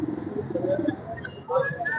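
A Ferozpuri pigeon coos in low, soft throaty notes at close range, followed by a few brief chirpy sounds.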